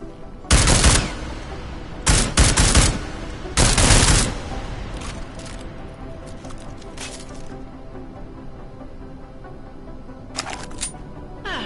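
Pistol fire in Deus Ex Mankind Divided, shots with and without a silencer: three loud bursts of rapid reports early, then quieter scattered pops and a final short cluster over background game noise.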